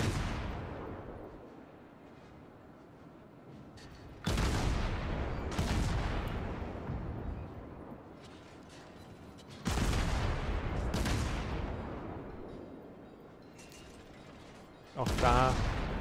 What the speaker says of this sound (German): jagen die Granaten jetzt den Gegner schön in die Seite